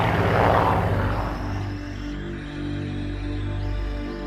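A Messerschmitt Bf-109 fighter's aircraft engine drones with a low, steady propeller rumble that swells early on, then holds a throbbing hum as the plane passes.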